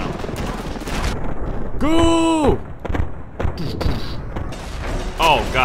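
A flak gun firing in Ravenfield booms in heavy, rapid blasts amid loud battle noise, with a rising electronic whine and a voice shouting briefly.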